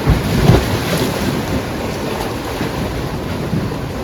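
Rough sea waves surge and wind buffets a fishing boat at sea, a loud, steady wash of water and wind noise with no speech.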